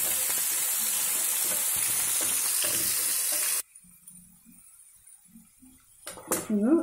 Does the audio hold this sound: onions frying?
yes